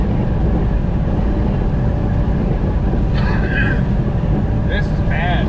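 Heavy northerly wind and rain battering a truck on a highway during a winter weather advisory, a loud, constant broadband roar with road noise underneath, and a few brief higher-pitched tones cutting in near the end.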